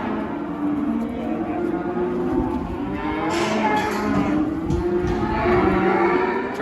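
Cattle moo repeatedly at a Moss Vale livestock sale, long drawn-out bellows from several animals overlapping one another above a constant busy background of saleyard noise.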